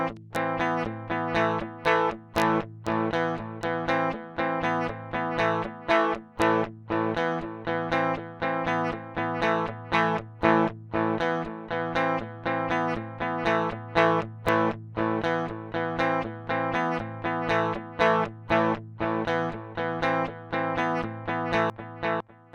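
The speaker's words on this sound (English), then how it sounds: "I'm going to raise the headroom control to see if we can get rid of that digital distortion." Electric guitar played through a Line 6 Helix modeler with harsh, gritty distortion at low bit depth, sustaining dense chords with short rhythmic breaks throughout, loud and up front with no talking.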